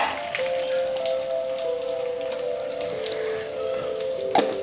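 Onions frying in a pan for a raw mango dal, a steady crackling sizzle running throughout with a faint low hum beneath and a brief clink near the end.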